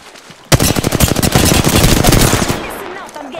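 Automatic gunfire in the video game Apex Legends: after a brief quiet, a loud, rapid burst of shots breaks out suddenly, runs for about two seconds, then tails off into its echo.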